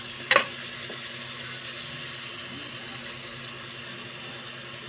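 Pork for adobong baboy sautés in a pan, giving a steady close sizzle throughout, with a short sharp clatter near the start, and nobody talking.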